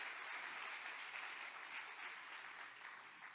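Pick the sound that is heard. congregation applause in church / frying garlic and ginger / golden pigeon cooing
congregation applause in church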